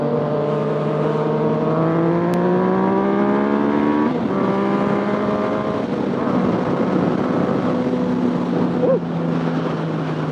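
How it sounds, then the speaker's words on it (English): A Yamaha FZ09 motorcycle pulls hard in third gear, its engine note rising steadily, easing briefly at a shift-like break, then climbing again, loud and close throughout with steady wind noise. "I'm gonna do the third gear pull."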